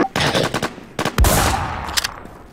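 Rapid bursts of gunfire from a battle royale video game crackle loudly and close, several quick volleys in succession with one heavier blast in the middle.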